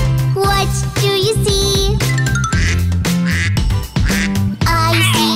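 A duck quacks repeatedly within a bright, busy children's song, nasal quacks popping out in rhythm over loud instrumental backing and sung melody.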